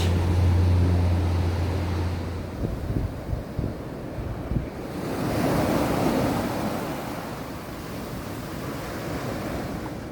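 Ocean waves wash onto a beach in Portugal, a steady rushing surf with swells rising and falling, and heavy wind buffeting the microphone during the first seconds.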